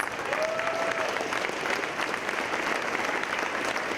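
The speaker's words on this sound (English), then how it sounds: "Please give them a nice round of applause." A large audience claps for volunteers at a tech conference opener, steady broad applause filling the room evenly for the whole stretch, moderately loud, with a faint whistle early on.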